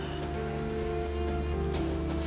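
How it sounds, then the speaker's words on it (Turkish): Rain falls steadily outside at dusk, a soft, continuous patter on surfaces heard at low level beneath a faint hum and some quiet tonal background. "Yağmur da var zaten."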